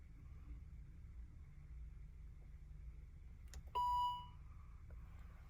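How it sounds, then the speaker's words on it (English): A single clear electronic dashboard reset beep sounds, short and bright, over a low steady engine-like rumble in an otherwise quiet car interior. "When that beep sound and finish beeping, it's reset."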